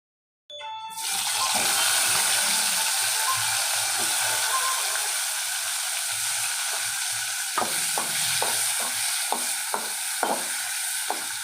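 Tomato pieces fry in a pan for chutney, a loud, steady sizzle starting abruptly and holding throughout, with a run of short stirring scrapes and clicks toward the end.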